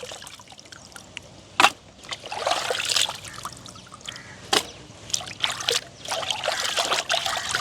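Fish being rinsed by hand in a basin of water, with irregular splashes, trickles and sloshing bursts, close up and without talk.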